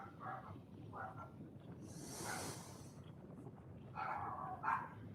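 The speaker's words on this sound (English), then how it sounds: "That's probably James's dogs" Dogs being dog-sat bark in short bursts, fairly faint and off at a distance, with yips and whimpers mixed in, over quiet background noise.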